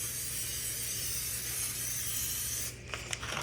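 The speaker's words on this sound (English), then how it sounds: "spray that pan with the butter spray" A steady hiss of butter cooking spray onto a pan runs for a few seconds, close and continuous, then stops and gives way to light clattering handling noises.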